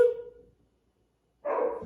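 A dog gives a short bark near the start, then after a silent gap a second, louder bark or yelp close by, with no talk.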